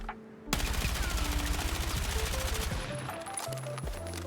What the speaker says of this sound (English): Now let's take a look at the mag dump.